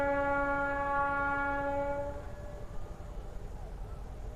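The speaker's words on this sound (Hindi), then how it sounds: "देखो वो ट्रेन मूव कर रही है" A train moves past, its horn blaring in a loud, steady multi-tone blast for about two seconds before cutting off, leaving a rumbling, rolling rail noise.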